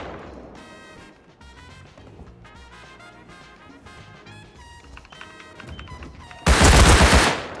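Close-range automatic rifle fire from an AK in the Rust console game, a dense loud burst of rapid shots arriving near the end after music-like in-game sounds, with no talk.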